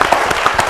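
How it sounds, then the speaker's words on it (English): An audience at a climate forum on green schools claps in a short burst, the applause dense and fairly loud, with no talk over it. "Please give them a round of applause."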